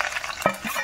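Chilli powder, turmeric, coriander powder, cumin powder and salt frying in oil with ginger-garlic paste for aloo peas samosa filling, a brief close sizzle with a quick stirring scrape.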